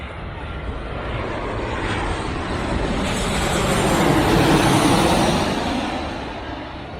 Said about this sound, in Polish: uwaga, samoloty. Jesteśmy koło lotniska.